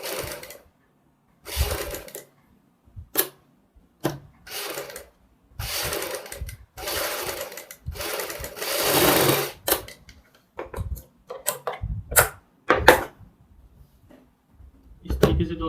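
Sewing machine stitching piping onto a kurti neck in short, stop-start bursts of rapid clatter separated by pauses, close and loud, with no talking over it.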